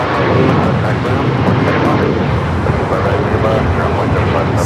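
An American Airlines Boeing 737 MAX at LAX, a loud, dense, continuous jet engine roar close by, steady without breaks, with radio voices mixed in.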